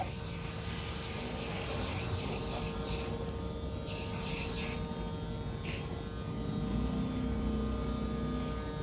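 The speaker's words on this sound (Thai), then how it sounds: "ฉีดสเปรย์ได้นะ" Spray being sprayed at a barber shop, several short hissing bursts over a constant electrical hum and a steady rubbing background.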